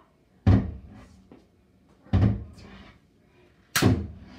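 Three heavy thuds of a door being banged or slammed, spaced about a second and a half apart, loud and close with quiet in between.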